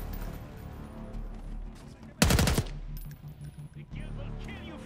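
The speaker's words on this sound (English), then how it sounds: "Oh, he was still on the ground shooting me." Gunfire in Call of Duty Black Ops 6 with a sharp, loud automatic burst of rapid shots lasting about half a second, set against quieter background game noise, with a few fainter shots after.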